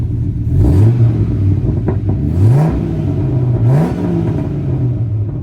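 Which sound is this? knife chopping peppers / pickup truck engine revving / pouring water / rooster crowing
pickup truck engine revving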